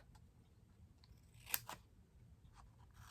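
Scissors trim pieces of paper card during Stampin' Up! nested gatefold card making: a couple of short, crisp snips around the middle, otherwise quiet with faint background.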